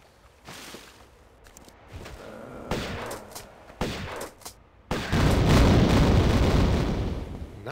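Shotgun blasts in the 1996 original Tomb Raider 1 video game, several loud separate booms spaced apart, followed by a long sustained roaring rumble.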